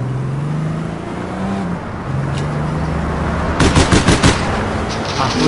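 Rapid bursts of automatic gunfire in the online game APB, layered over a steady droning car engine, with the shooting clustered in a dense rattle near the end.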